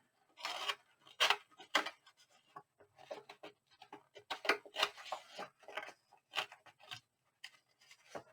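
Scissors cutting paper during junk journal crafting, a quiet close series of crisp snips and rustles in irregular bursts with short pauses between them.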